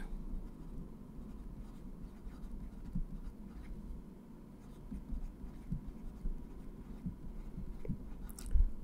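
A pen scratches across paper, faint and continuous, as cumulative frequencies for a maths lesson are written out by hand, with soft taps and strokes over a low room hum and no speech.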